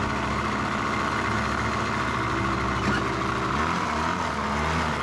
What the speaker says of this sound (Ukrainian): Ну холодний, газує.